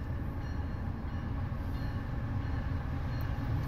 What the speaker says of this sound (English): Looks like it has a pretty nice locomotive on the lead.